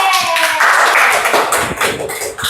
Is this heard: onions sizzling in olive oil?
no